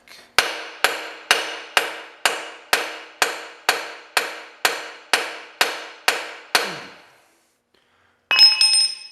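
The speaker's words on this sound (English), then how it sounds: "That hammer, that mallet, don't give it a good enough blow" A mallet strikes a stuck 1978 John Deere 208 engine in about a dozen sharp, evenly spaced blows, close and loud, followed by a short pause and a brief metallic ringing clatter.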